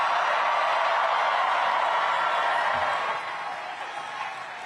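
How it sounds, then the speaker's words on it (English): Crowd at a New York mayoral election victory event for Zohran Mamdani applauding and cheering in a broad, dense wash of clapping that eases off slightly toward the end. "please give them all a round of applause"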